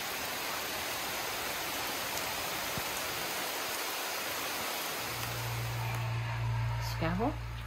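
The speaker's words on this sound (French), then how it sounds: "on a une bonne petite pluie qui va rafraîchir" Light rain falls steadily outdoors at a house under renovation, making an even, broad hiss throughout, with a low hum and a brief voice near the end.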